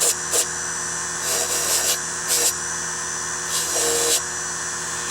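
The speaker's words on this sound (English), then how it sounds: "I'm going to put the back of this against the fiber wheel to clean off all this discoloration." A soldered silverware jewelry piece pressed against a spinning fiber wheel to clean off discoloration, giving steady buffing hiss with several brief louder grinding bursts as the metal is pushed in, alone without talk.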